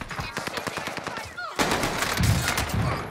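Machine-gun gunfire in Call of Duty Warzone Pacific rattles in rapid, loud bursts, then gives way to a denser wash of shots and impacts.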